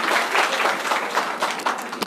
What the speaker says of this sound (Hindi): जोरदार तालियां हम एक बार बजा दें सर के लिए